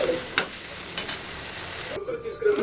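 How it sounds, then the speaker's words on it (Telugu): Masala-stuffed brinjals frying in a pan for a curry, with a close, loud sizzle and a few sharp scraping stirs, and a brief voice heard partway through. "పచ్చివాసన పోయేంత వరకు బాగా వేసుకోవాలి."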